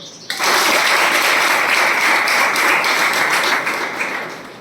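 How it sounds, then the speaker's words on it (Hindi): Children at a government tribal girls' hostel clap together in a sudden loud burst that begins sharply and carries on as dense, steady applause for several seconds before easing slightly. "तो सभी अपने अपने एक बात तालियां बजा लो।"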